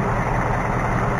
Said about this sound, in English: it sounds like the same piston slap I had in mine